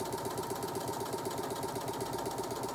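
A sewing machine with automatic needle up and down stitches steadily across a zipper pouch, a continuous close mechanical whir with fast even needle chatter and no pauses.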